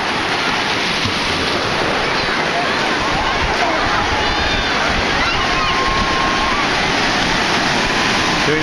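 Ocean surf waves breaking near the shoreline, a loud continuous roaring wash of whitewater and churning foam, steady and close with no pauses.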